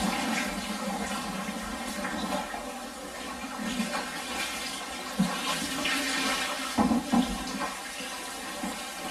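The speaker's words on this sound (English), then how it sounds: "Just give it a thorough rinse with fresh water." Fresh water rushes steadily into a home brew beer fermenter during rinsing, a continuous close hiss and splash with occasional sloshing knocks, no voices.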